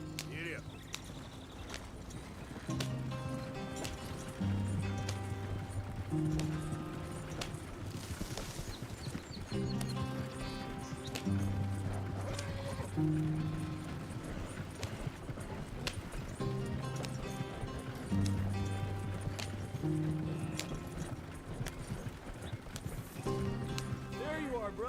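A horse's hooves clip-clopping in a steady trotting rhythm in Red Dead Redemption 2, heard under game music and talking voices, with an occasional whinny.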